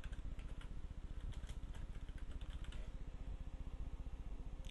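Fast, steady keystrokes on a computer keyboard while text labels are entered into an Excel spreadsheet, a continuous clatter of close key presses running throughout with no talking.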